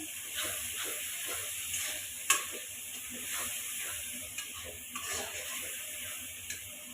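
Spice paste sautéing in a pan for a beef dish gives a steady, fairly quiet sizzling hiss, broken by a few sharp ticks and clinks, with no talking.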